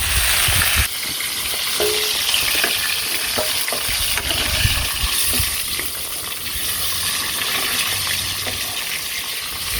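Fish sizzle steadily in a hot pan, a constant loud frying hiss with occasional stirring clatter and spatters close by.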